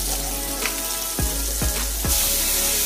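Blackened salmon searing in a hot pan under a constant loud sizzle, broken by a few quick knocks and scrapes as the fillets are turned over.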